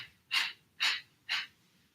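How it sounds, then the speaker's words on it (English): Three sharp, forceful kapalabhati breath exhalations through the nose, pushed by the stomach muscles, evenly spaced about half a second apart, close and clear with quiet between them. "we'll start pushing down the air forcibly by using the stomach muscles"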